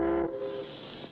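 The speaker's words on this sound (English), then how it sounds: "That's the first boat whistle that's sounded in 3 weeks." A steamship whistle in a 1959 color cartoon sounds one loud, steady tonal blast with strong harmonics, held for about a quarter second and then cut off, leaving a fainter, noisy tail.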